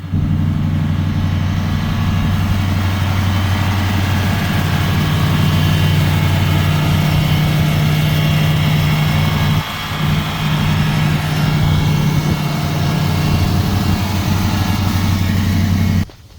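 A 1990 Chevrolet Caprice, a daily-driven car, idles steadily up close with a deep, even engine rumble that holds for the whole stretch, dipping briefly once before settling back to the same smooth drone.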